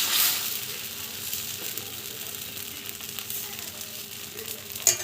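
Thin dosa batter, with rava to be added later, sizzles on a hot tawa as a steady close frying hiss, with a small clatter near the end.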